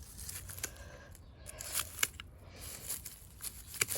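Scissors or pruners snip dead foliage off heuchera plants, giving several sharp, close cuts with rustling and crackling of dry leaves between them.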